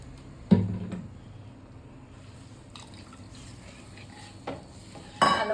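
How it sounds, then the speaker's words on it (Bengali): A small splash of water poured into a simmering prawn malai curry after rinsing a bowl, with quiet bubbling and dripping between sharper clinks and a louder pour at the end. "বাটি ধুয়ে একটু জল দিয়ে দেবো।"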